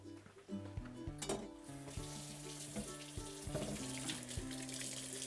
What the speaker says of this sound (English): I'm gonna get washed up.